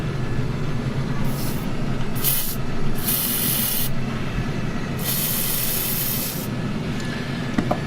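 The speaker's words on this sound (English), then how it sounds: "I'm gonna spray it with some PB Blaster to just help loosen any that's built up" Aerosol cans of PB Blaster penetrating oil hiss in several loud, close bursts of varying length onto a stuck fuel filter on a turbo H23 engine, with no talking.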